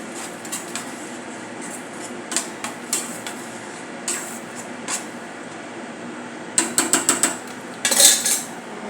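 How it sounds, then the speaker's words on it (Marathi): Chutney being mixed into vegetable momo filling in a bowl, with a utensil clinking and scraping against the bowl in irregular taps that grow busier and louder toward the end, close by with no talking. "चटणी घालणार आहोत. मिक्स करूया."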